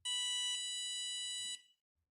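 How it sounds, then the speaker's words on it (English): A piezo buzzer gives a single long, shrill electronic beep, loud at first and then slightly softer, cutting off abruptly before a brief silence. "it beeps loudly first and then it goes softer"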